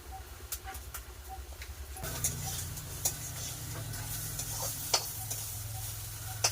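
Fish sizzles steadily in a hot pan, a constant crackling hiss with small pops and ticks, close and moderately quiet, growing fuller partway through.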